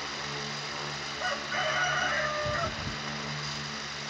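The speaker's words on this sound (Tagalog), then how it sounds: "Isang manok tumilaok." A rooster crows once over a steady background hum. The crow is fairly faint and rises briefly before falling away.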